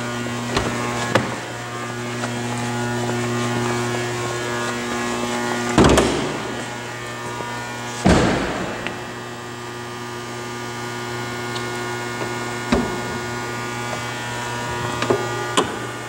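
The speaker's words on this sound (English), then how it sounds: "This is one of Chrysler's best engines." The 3.6-liter V6 in a 2014 Chrysler 300C John Varvatos AWD idles with a steady, smooth, low hum, broken by a few brief thumps and clicks. No talking is heard.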